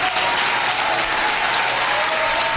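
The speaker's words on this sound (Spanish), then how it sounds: "Pienso que no, porque están aplaudiendo," A church congregation applauds steadily throughout, a dense, sustained clapping from many hands filling the space with no break.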